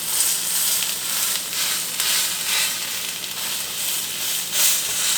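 A seasoned steak sears in a very hot pan for a reverse-sear cook, giving a loud, continuous close sizzle and hiss throughout.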